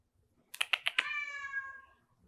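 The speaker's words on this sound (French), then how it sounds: "J'ai un petit chat qui s'impatiente" A small cat meows indoors during a quiet yoga session: a quick run of four short chirping calls leading into one drawn-out meow, near and alone against a silent room.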